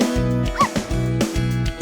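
A singing voice imitates a dog's barks in short rhythmic yaps over bouncy music in a Turkish children's song.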